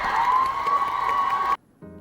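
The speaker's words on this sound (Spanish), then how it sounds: "Merecida lluvia de aplausos" Live concert audience bursting into loud sustained applause and cheering after a performance, a dense wash of clapping and whoops that cuts off abruptly.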